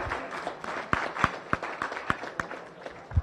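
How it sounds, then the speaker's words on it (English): An audience at a Rotary Club gathering held at a private home claps in a round of applause, a fairly faint patter of hand claps with several sharper individual claps standing out over about three seconds. "Give them a round of applause"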